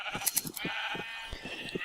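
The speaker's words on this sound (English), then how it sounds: "every time I shear these sheep" Sheep bleating in Minecraft on a wool farm as they are sheared, a run of repeated overlapping bleats at a steady, fairly loud level with no talking.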